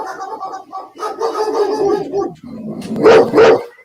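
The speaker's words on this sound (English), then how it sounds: "that's the dog echoing. Only barked once." A dog barks close and loud, a couple of sharp yaps at the end after a stretch of muffled voices talking, with an echoing, doubled quality.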